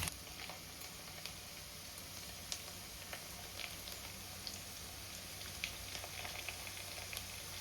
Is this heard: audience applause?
no